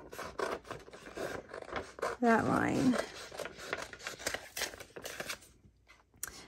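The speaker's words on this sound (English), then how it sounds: "now take your scissors, and I'm just going to cut right along" Scissors snip and slide through thin, crisp vellum paper up close, with soft rustling and a quiet voice speaking briefly.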